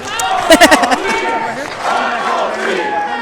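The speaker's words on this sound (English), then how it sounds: "This crowd must be kind of nasty because they're referring to him as Uncle T." Wrestling arena crowd chanting and yelling in unison during a pinfall struggle, a loud rhythmic burst of voices early on settling into a sustained roar of many people.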